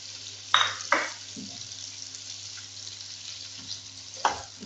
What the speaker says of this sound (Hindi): चिकन फ्रैंक्स फ्राई हो रहे हैं।